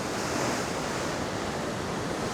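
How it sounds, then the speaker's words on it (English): Big sea waves crash and splash against the rocky Costa de la Calma shore in Mallorca under strong onshore wind, a dense, constant roar of surf and gusts close to the microphone. "the waves are going to be big, if they're going to be big anywhere, and the wind's blowing in this direction"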